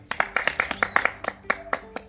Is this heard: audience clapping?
yes